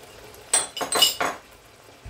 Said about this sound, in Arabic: وهلا بحركهم سوا